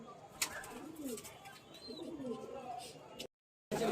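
Pigeons murmur softly against a steady outdoor background, with a brief gap of silence near the end before the ambience returns.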